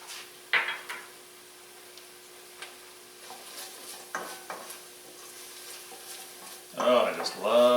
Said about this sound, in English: I just love when you hit that garlic hits the heat, man.